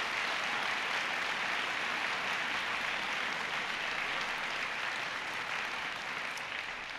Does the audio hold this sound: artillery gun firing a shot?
no